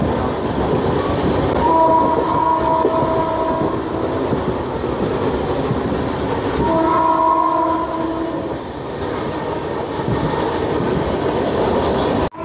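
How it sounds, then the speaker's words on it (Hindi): Riding aboard the Lichchavi Express between Prayagraj and Kanpur, with loud rumbling wheels and rail clatter throughout, and two long horn blasts sounding in the middle. "इस वाली जिस ट्रेन में अभी मैं सफ़र कर रहा हूँ"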